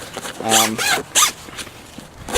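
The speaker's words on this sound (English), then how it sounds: "They use great zippers." A zipper on a clothes bag pulled in quick, rasping strokes, two or three close zips in a row, bright and scratchy, with a voice briefly audible underneath.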